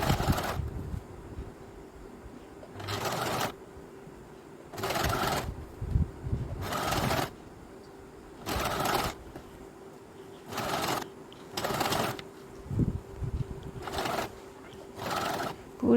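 A sewing machine stitches a band onto a blouse neckline in repeated close bursts of rapid whirring, each a second or so long, separated by quiet pauses.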